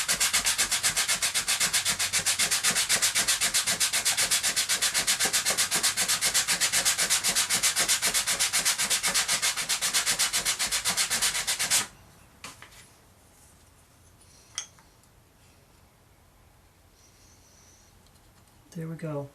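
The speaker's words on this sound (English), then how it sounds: "Both of the sides are good and sanded now." A wooden guitar rosette is sanded by hand in close, rapid rhythmic rubbing strokes for about twelve seconds, then it stops, leaving a quiet room with a few faint knocks and handling sounds.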